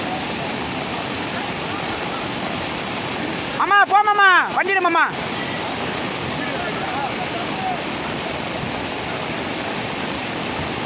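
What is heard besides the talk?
floodwater rushing through a village, sweeping an auto-rickshaw wheel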